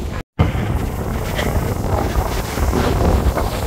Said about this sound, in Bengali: নদীতে প্রচুর বৃষ্টি হচ্ছে এই মুহূর্তে